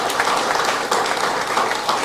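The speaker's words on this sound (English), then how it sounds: "I'd like to give a big round of applause for all of them." Steady applause from an audience honoring the officers at an American Legion post gathering, dense overlapping claps continuing evenly throughout at a strong, even level.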